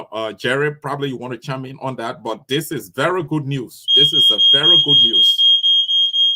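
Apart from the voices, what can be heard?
smoke detector alarm beeping in a house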